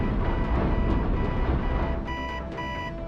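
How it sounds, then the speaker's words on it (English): An alarm in a cartoon beeps in a steady repeating electronic pattern, ringing out more clearly toward the end over a busy animated soundtrack. "Can't you do something about that blinking alarm?"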